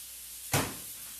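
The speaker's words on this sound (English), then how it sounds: "Now we're going to get the rice out of the microwave" A microwave door pops open with a single sharp click and a short decaying rattle, close by in a quiet kitchen while rice is being taken out.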